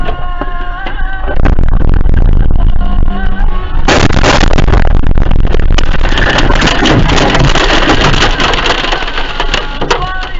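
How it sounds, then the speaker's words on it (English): Bombs exploding in war footage from the U.S.-Iran conflict, heavy crushing blasts and rumbling debris that swell into a sustained roar, very loud and distorted, with no voices. "watch for the bombs and how they hit"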